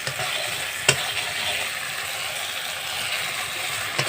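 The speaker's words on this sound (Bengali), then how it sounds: "আর এটা হচ্ছে একটু রসুন বাটা। তো দিয়ে তারপরে ভালো মতো নেড়ে চেড়ে নিতে হবে।" Garlic paste sizzling in a pan for a mustard-style bhola fish curry, with a steady broadband frying hiss, light scraping from stirring and a couple of sharp spoon clicks, close and alone without talk.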